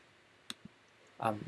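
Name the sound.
mouse click to accept data entry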